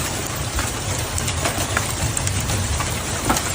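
Hail pelts down steadily during a Florida storm, a dense, loud patter of scattered hits over a continuous roar with no voices.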